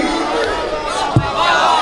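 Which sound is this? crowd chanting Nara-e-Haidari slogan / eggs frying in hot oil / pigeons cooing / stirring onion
crowd chanting Nara-e-Haidari slogan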